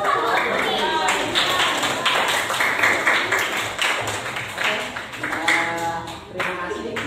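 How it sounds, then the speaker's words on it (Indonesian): Classroom audience clapping for a student during a teacher-supervision coaching lesson, a dense, steady patter of hands lasting several seconds with voices mixed in. "Tepuk tangan untuk Rizka."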